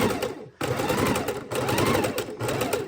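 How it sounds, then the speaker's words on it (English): A sewing machine stitches jelly roll quilt strips with a steady, continuous whirring run, briefly pausing about half a second in before resuming at an even, close, moderately loud level. "we just want to sew gently straight across"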